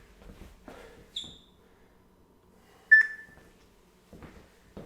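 A workout timer is switched off and gives a few short electronic beeps, with a brief chirp early on and a sharper, louder beep about midway, separated by quiet gaps and faint handling noise.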